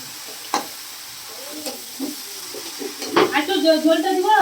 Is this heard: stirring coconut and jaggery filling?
yes